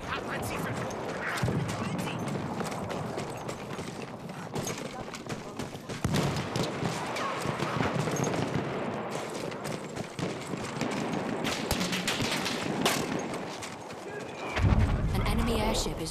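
Horse hooves clip-clop amid scattered gunfire and bursts of machine-gun fire in a Battlefield 1 World War I battle, a busy, continuous mix with a player talking over it throughout.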